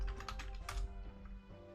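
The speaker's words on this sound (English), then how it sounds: "Typing." A short run of soft computer keyboard clicks, typed while coding a Minecraft datapack, lands quickly and close up before trailing off into a faint hum.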